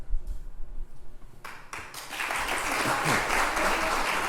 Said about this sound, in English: Remember we asked that there be no applause.